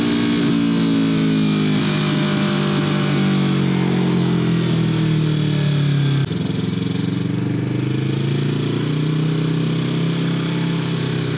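Motorcycles roar past close by, a loud sustained engine drone with rising and falling pitch as they accelerate and shift, one pass giving way to the next.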